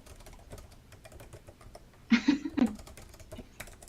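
Computer keyboard typing, a short burst of clicky keystrokes around the middle, fairly close and louder than the quiet background murmur.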